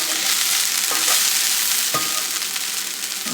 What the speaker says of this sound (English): my delicious fried okra, not an ounce of slime.